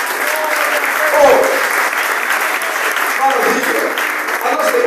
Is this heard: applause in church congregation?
yes